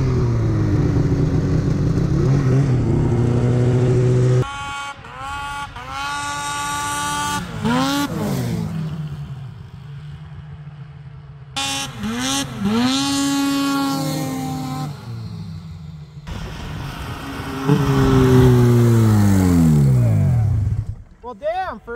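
An Arctic Cat M8 snowmobile with about 6,300 km on it revs hard and rides, its engine climbing and falling in loud, close repeated pulls with brief lulls between.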